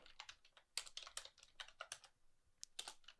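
A computer keyboard clacks under fast, uneven typing as a terminal command is entered, a steady run of close, crisp keystrokes with a brief pause near the end.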